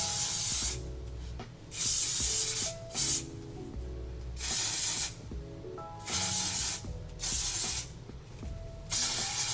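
Dry heat protectant spray misted onto hair in several separate bursts of hissing aerosol, close and fairly loud, with quiet pauses between the sprays.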